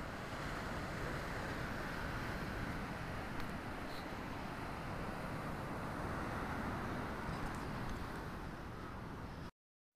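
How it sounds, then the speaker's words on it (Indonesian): Fairly large ocean waves at Klayar beach, a continuous rushing surf wash with wind noise, steady and unbroken throughout with no talking. "Ombaknya agak besar sih."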